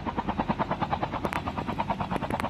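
A helicopter in Call of Duty chops nearby in a fast, even rotor pulse, loud and rhythmic, with sharp gunfire-like cracks cutting in near the end.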